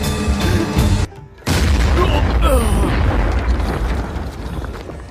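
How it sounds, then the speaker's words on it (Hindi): A loud, booming explosion in the video game Detective Dotson erupts after a brief hush, its rumble rolling on with crackling debris amid game noise. "धमाका।"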